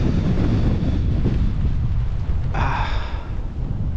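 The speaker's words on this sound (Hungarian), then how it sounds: "Hát ez brutál ez a szél," Strong wind buffets the camera microphone on a fishing trip, a loud continuous low rumble and roar that swells and dips throughout.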